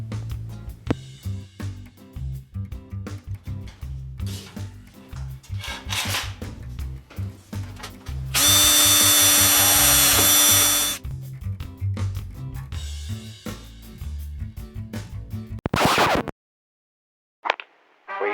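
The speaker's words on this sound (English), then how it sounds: "For the side doorway frame covers, drill and rivet these to the main frame" Metal garden storage shed being assembled as doorway frame covers are drilled and riveted to the main frame: rapid clattering tool bursts, a sustained loud drill whine midway, then a sharp pop-like rivet burst before silence.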